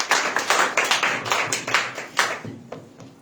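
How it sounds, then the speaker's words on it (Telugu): A congregation at a Christian devotional gathering claps hands in a steady, rhythmic beat of sharp distinct claps, close and fairly loud, slowing and fading toward the end. "చప్పట్లు కొడితే ఏమైపోతుంది"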